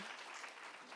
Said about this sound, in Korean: 박수 고맙습니다